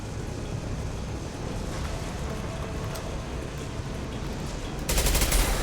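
Steady, dense gunfire in Mass Effect 2 runs as a continuous rattling wash throughout, swelling louder with a sharper burst near the end, with no talking over it.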